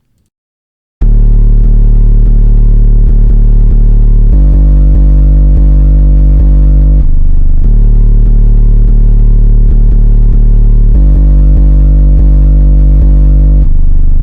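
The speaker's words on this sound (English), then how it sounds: "And then another way, slightly more subby, and that sounds like this." After a second of silence, a deep, sub-heavy 808 bass pattern rolls in, clipping, with long booming notes shifting pitch in a loose repeating loop, loud and smooth.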